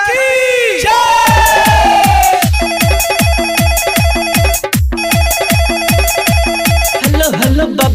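A loud, repeating electronic phone-ringtone melody plays inside a Bhojpuri devotional Bol Bam song, its bright chiming notes pulsing steadily over a driving drum beat after a short melodic opening.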